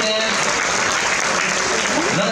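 Audience applause at the Bol d'or 2016 sailing prize ceremony in Geneva, a loud steady wash of clapping that fills the whole stretch, with voices mixed into the crowd.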